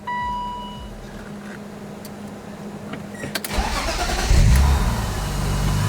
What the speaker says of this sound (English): I'll leave this off before I start the car.